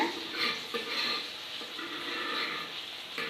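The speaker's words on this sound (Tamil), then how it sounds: "இப்போ நமக்கு நல்லா மீன் குழம்பு நல்லா கொதிச்சிருச்சுங்க" A pot of fish curry bubbles and simmers softly, with gentle gurgling and faint sizzling that carries on evenly without any talking.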